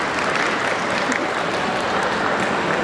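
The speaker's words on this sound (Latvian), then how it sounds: "Aplausi, Brabus." Applause from spectators at a PetExpo breed demonstration, a dense, loud sheet of clapping that runs evenly throughout with no pauses.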